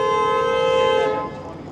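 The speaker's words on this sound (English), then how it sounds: "That streetcar was honking" A streetcar horn sounds in city traffic as one steady, loud, tonal honk, held for about a second before cutting off into street noise.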